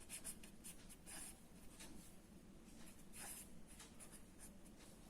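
Pen scratching across paper in quick bursts while equations are written out by hand, close and steady over a soft background hum, no talking.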